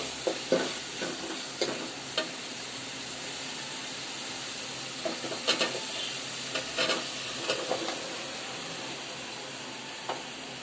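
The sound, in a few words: sautéing prawns with spices in a pan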